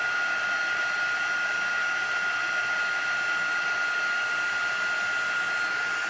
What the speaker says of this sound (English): So let me heat that a little bit.